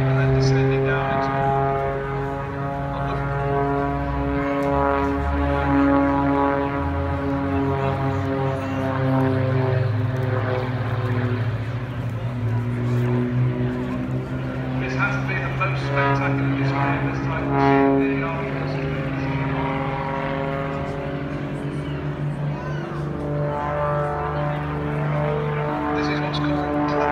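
A propeller aerobatic plane's engine drones loudly and continuously through a manoeuvre, its pitch rising and falling, with a commentator talking over it throughout.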